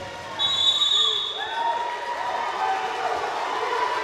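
Crowd noise at an ABA basketball game between the Indiana Lyons and Ohio Kings, a steady roar of cheering with sharp whistle-like tones over it, loud and sustained.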